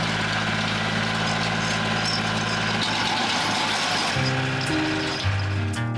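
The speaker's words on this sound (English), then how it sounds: "But today we have the benefit of a small tractor." A small tractor works the ground of a prairie homestead garden, its engine droning steadily close by, with a low pitch shift partway through and no talking.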